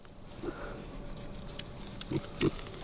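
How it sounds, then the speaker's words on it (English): Pigs grunting in a pasture as they root around, with a few short, soft grunts rising over a low, steady outdoor background and no talking. "They're having a great time. You see, they're just rooting all over the place."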